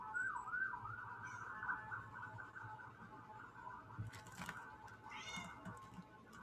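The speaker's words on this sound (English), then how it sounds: "The cat? Meow." A house cat meows indoors in a warbling, drawn-out call over a low background hum, followed by a few fainter sounds.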